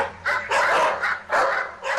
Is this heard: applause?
no